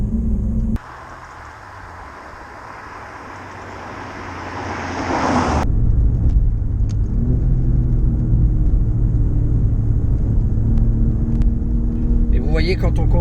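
An Alfa Romeo Giulia Quadrifoglio drives along, its engine note swelling from a quieter start into a loud, steady throaty drone that holds for several seconds with a faint whine above it.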